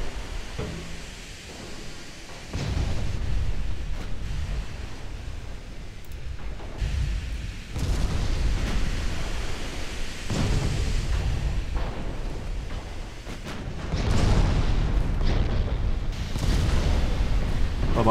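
Torpedo hits on a warship in a 1930s naval strategy game: deep rumbling explosions that swell in several loud, heavy waves, with low booms rolling on continuously throughout.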